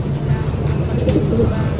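A pigeon coos in low, soft, repeated throaty murmurs, close by, over faint background noise.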